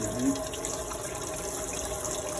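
Water runs steadily from a tap over steelhead eggs being rinsed of blood, a continuous close splashing gush at moderate level without speech.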